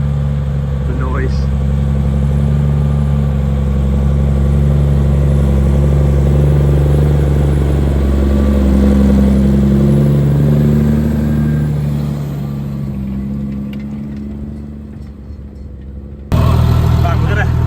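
A tractor engine works the ground on a dry field, a loud, steady, close drone with slight shifts in pitch that runs for a long stretch. It dips briefly near the end and then returns abruptly.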